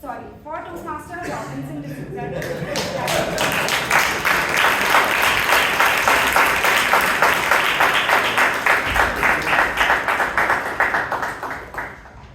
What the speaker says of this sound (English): Please put your hands together for Toastmaster Robinson D'Souza